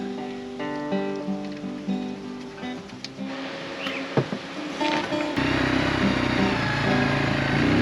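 A neglected Yamaha ATV engine with low compression is cranked over repeatedly in uneven bursts of starter whir and weak chugging, and a steadier, louder run settles in toward the end.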